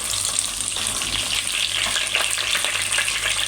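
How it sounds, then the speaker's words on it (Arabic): Meat sizzles and fries steadily in a pan for Palestinian maqluba, a dense continuous crackle with faint stirring scrapes, no voices. "رجعت لكم تاني بعد ما حمرت اللحمه اهي"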